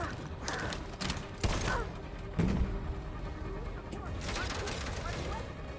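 Gunfire in the video game Detroit: Become Human, several sharp shots and bursts among game noise and a continuous mechanical din, with a player talking over it.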